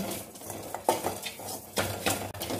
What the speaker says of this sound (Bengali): এর মধ্যে সবগুলো একসঙ্গে দিয়ে দিলাম, দিয়ে একটু এটাকে নেড়ে চেড়ে ভেজে নেব শুকনো কড়াইতে।